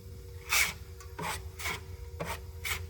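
Hand sanding around a dent in the clear-coated body panel of a Nissan S13, five or six rhythmic gritty rasping strokes, close and moderately loud with no talking.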